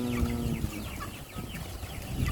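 Backyard chickens about two months old cluck in short, soft bursts at a moderate distance over a quiet farmyard background with a faint steady hum.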